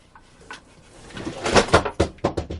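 A shop drawer on newly mounted slides is worked open and shut with a series of loud, close thuds and rolling clacks that come faster toward the end, and no one speaks.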